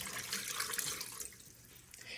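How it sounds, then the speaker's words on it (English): About a cup of water being poured into an Instant Pot, a short splashing trickle with light dripping that fades near the end, soft and close. "then I'll put some water down in there. I got about a cup of water"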